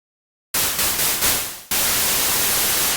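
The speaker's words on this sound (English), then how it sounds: "Just click on the white noise, and there you go." After a brief silence, a loud burst of synthesizer white noise switches on, a dense steady hiss with a short flutter before holding constant.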